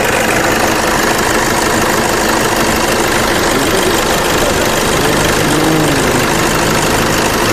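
A 2011 Toyota Innova V intercooler engine idles with a constant, loud rumble close by, and a voice speaks briefly over it near the end.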